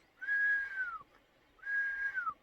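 A flat, sustained 'dead' whistle used as the 'right' command for a sheepdog, blown twice, each long steady note dipping slightly at the end, clear and isolated with a pause between.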